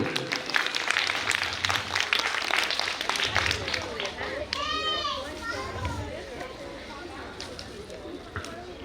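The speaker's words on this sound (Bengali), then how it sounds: "ওর জন্য জোরে হাততালি হয়ে যাক একটু।" A crowd claps for a prize winner at a children's art competition organised by a religious trust, brisk applause mixed with children's chatter and shouts, fading and thinning toward the end.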